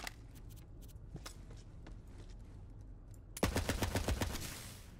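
Burst of assault rifle fire in Borderlands 3, loud rapid automatic shots ringing out for about a second and a half at the end, after scattered sharper single cracks and background game noise.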